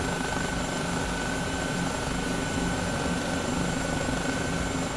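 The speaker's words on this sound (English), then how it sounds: "you're getting a good idea of just how the helicopter moves around" A helicopter in Microsoft Flight Simulator taxiing on the ground gives a steady, loud rotor and engine drone that runs unbroken throughout, with no talking.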